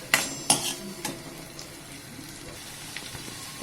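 Onion being sautéed in a pan, a couple of sharp spoon clanks against the metal at the start, then a quiet, steady frying hiss with occasional light scrapes.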